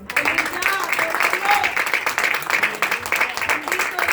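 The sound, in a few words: applause for the Lord in church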